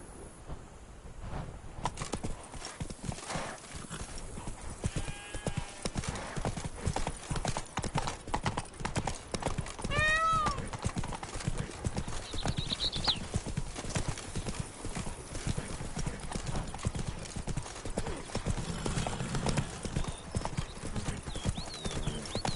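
Geralt's horse Roach gallops in The Witcher 3, hooves clip-clopping in a steady, busy rhythm throughout, with a brief whinny and game music and ambience running underneath.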